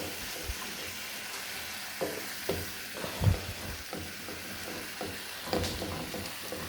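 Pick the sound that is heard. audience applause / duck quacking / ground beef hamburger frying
ground beef hamburger frying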